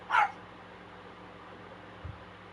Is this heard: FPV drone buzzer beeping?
no